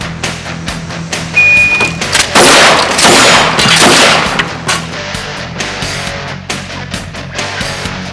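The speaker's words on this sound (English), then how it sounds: "I'd like to demonstrate the 3-shot burst technique to you." Pistol fired at a live-fire range in a three-shot burst technique, loud reverberant bangs clustered around the middle, a dense roar of shots followed by scattered sharper reports fading toward the end.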